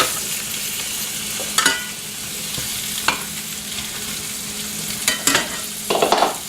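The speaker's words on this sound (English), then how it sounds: "now that I've melted my butter, I'm going to add my apples" Apples frying in melted butter hiss in a steady, loud, continuous sizzle, with a few sharp scrapes and knocks of a utensil stirring the pan close by.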